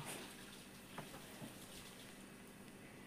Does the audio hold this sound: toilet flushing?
yes